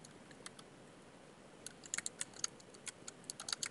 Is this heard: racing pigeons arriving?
no